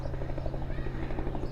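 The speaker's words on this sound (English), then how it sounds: "So we've got a helicopter up there now" A helicopter flies overhead above a holiday setting, its rotor making a steady, throbbing beat that sits fairly loud and constant through the whole stretch, with no voices.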